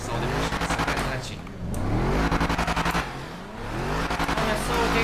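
A Dodge Challenger in the game FiveM revs hard in repeated loud, pulsing bursts that rise and fall over several seconds, close and dominant, with faint voices mixed in.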